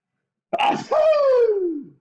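A single sneeze with a sharp intake and a loud, falling burst, close and clear against silence, during a classroom math lesson on writing inequalities.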